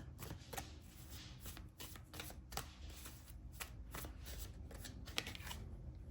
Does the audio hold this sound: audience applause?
no